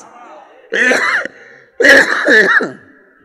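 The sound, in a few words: coughing and throat clearing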